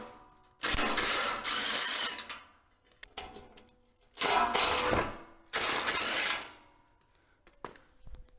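A wrench works loose the fender bolts on a Harbor Freight trailer, heard as several separate bursts of metallic ratcheting and clicking, fairly close, with short pauses between them and no talk.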